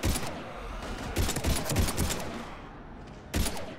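Gunfire rattles through a firefight against husks in Mass Effect 3 on Xbox 360, with loud, dense bursts and fusillades overlapping throughout. A final burst follows a brief lull.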